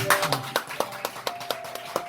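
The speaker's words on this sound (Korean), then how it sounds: "김숙희 성도님 박수 한번 주세요" A small church congregation gives brief, sparse applause to welcome a new member, a few separate claps landing in a loose, uneven rhythm, close by and fairly soft.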